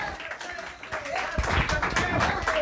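Audience applause at an academy farewell event, a dense, steady patter of many hands clapping at moderate level, with some voices mixed in.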